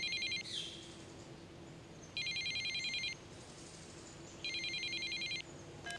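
A cell phone rings in three evenly spaced bursts of trilling electronic tones, fairly faint over a quiet background hum, with pauses between each ring.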